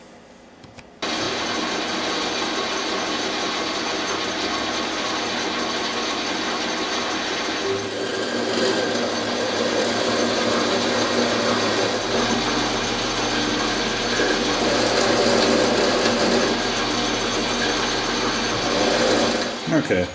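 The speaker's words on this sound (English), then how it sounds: "Now we can drill and tap it." Drilling a hole in a steel saw arbor on a machine tool, a steady close mechanical whir and grind that starts abruptly and continues without pause, growing slightly heavier midway.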